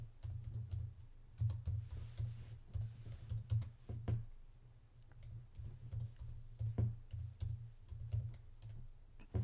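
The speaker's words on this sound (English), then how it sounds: "You guys can tell typing wasn't my first class." Fast, irregular typing on a computer keyboard, quiet close clicks and key taps in uneven bursts against a low steady hum, with no one speaking.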